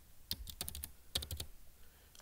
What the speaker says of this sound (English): So you can type in your name.